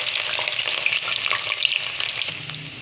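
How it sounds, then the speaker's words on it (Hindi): Finely chopped onion frying in hot oil for a beef paya curry sizzles loudly and continuously, with crackling pops and spatters throughout and no talking. "जब तेल थोड़ा सा गर्म हो जाए तो इसमें हमने प्याज को डाल देना है।"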